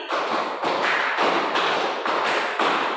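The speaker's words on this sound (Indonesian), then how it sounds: "tepuk lima dua kali" Group hand clapping by a room of students during a classroom exercise: five or six loud, crowded bursts of claps in even succession, each one a dense smack of many hands, no voices over it.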